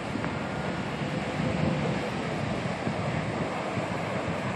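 Ocean surf breaks along Redondo Beach near the pier, a continuous roar of waves mixed with wind buffeting the microphone, loud and close with no voices.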